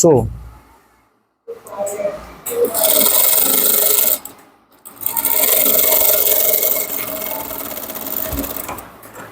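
Close sewing machine stitching Ankara fabric for pants, running in loud sustained bursts with brief pauses between them, a soft voice faintly underneath.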